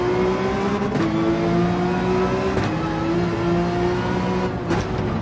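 A GT3 race car in Gran Turismo 7 at Trial Mountain accelerates out of a turn, its engine a steady, loud rising drone with brief gear-shift breaks, heard close and alone.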